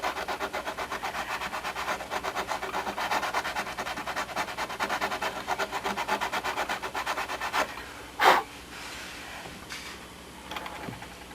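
Sandpaper rubbed back and forth over carved wood on a model Spitfire airplane, a fast, steady rasping scrub up close, ending with a brief louder knock and a few lighter strokes.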